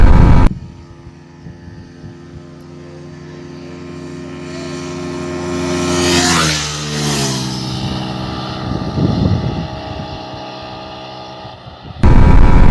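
A Yamaha MT15 motorcycle at a drag race against a Suzuki Gixxer, its engine droning steadily, then swelling as the throttle opens around the middle before easing back, heard alone without talk.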